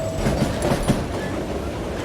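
Train rolling along in the western game Call of Juarez: Gunslinger, a steady loud rumble with several rhythmic wheel clacks early on, continuous throughout.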